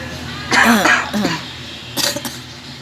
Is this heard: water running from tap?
no